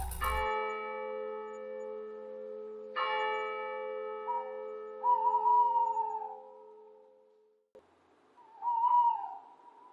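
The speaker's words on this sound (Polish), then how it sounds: "te puszczyki mogły się zalęgnąć, bo one lubią mieszkać w miastach" A tawny owl in a town gives wavering hoots partway through and again near the end, following two loud, ringing bell strikes whose tones hang and slowly fade.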